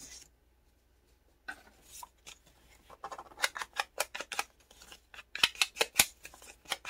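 Scissors snip through paper while trimming a decorative piece for a koala-themed junk journal; after a quiet start, a close run of crisp, irregular cuts builds into rapid clusters.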